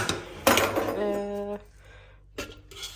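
A metal cooking pot is handled in a home kitchen, a loud clank followed by a clear ringing tone that fades, then a softer knock of cookware a moment later.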